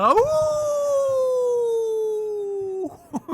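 A person imitates a wolf howl, one long sustained vocal tone that rises quickly and then slides slowly downward for nearly three seconds, ending with brief speech sounds.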